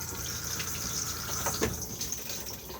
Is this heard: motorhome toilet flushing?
yes